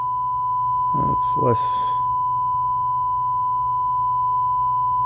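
A steady sine test tone plays from a small rugged speaker, holding one pure pitch throughout at an even level, with a brief spoken remark and a short noise partway through.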